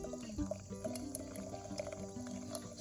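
Primitive glue heated in a can over a fire, bubbling and simmering with soft liquid pops and gurgles over a low, steady crackle, close and moderately quiet.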